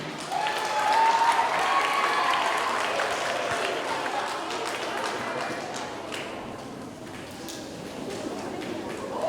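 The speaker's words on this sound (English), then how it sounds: "Let's give a round of applause for these perfect math scorers" A school assembly audience at an elementary celebration applauds perfect math scorers, a broad, sustained crowd clapping that swells early and slowly tapers, with some voices mixed in.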